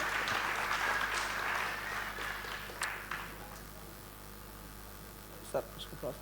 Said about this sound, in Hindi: एक बार जोरदार तालियां इसके लिए बजाएं